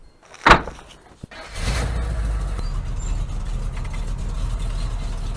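A 1936 Chevy readies to set off: a sharp door thump and a small knock, then the engine starts and settles into a steady, low idling rumble.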